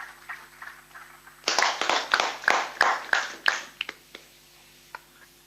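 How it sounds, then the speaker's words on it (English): Applause at the inauguration ceremony of a smart city conference, here a handful of loud, distinct claps in a slow uneven rhythm, fading into a few isolated claps. "Big round of applause, ladies and gentlemen."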